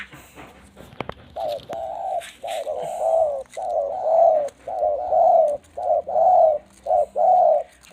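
A decoy bird in mountain country gives repeated low cooing calls, evenly spaced phrases rising and falling, close and clear, after a few sharp knocks at the start.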